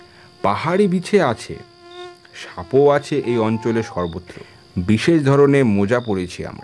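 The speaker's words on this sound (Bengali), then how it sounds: "ঝিঝি ও কীটপতঙ্গের ডাকে নৈশ নিঃসারতা ভেঙে যাচ্ছে।" Crickets and other insects chirp and buzz steadily through a hilly nighttime forest, a thin continuous drone kept low beneath a voice that narrates throughout.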